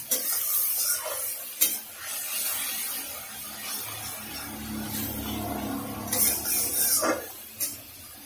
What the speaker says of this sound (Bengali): এবার পুরো মশলাটাকে ভালো করে একটু কষে নেব।